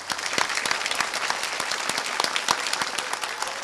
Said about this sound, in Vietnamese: Một lần nữa dành tặng một tràng pháo tay thật lớn dành cho Linh Tý thưa quý vị.